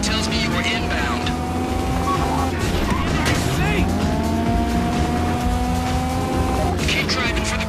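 A getaway car races toward the bridge during a GTA V heist, its engine droning and shifting pitch steadily while tires hiss and squeal beneath it, with voices talking over the driving.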